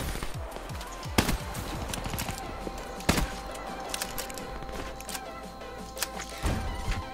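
Gunfire in a first-person shooter video game (Marshal-16, Dark Matter mode): sharp loud shots at intervals over a dense, busy game soundscape.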